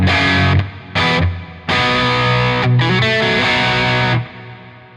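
Distorted electric guitar through the Neural DSP Archetype: Rabea plugin's reverb, chords ringing out with a washy reverb tail, struck in several bursts with brief gaps, the last chord fading slowly.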